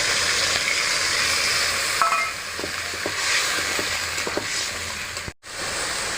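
Water poured into sautéed spice masala for a taro-in-yogurt curry sets off a constant, close sizzle in the pan, with small popping ticks and a sudden short dropout near the end; no talking.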